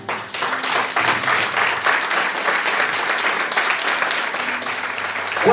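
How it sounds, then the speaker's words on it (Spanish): Church congregation claps loudly during a Spanish-language sermon, a sustained, dense round of applause filling the room at a steady level for several seconds. "Denle un aplauso a Cristo."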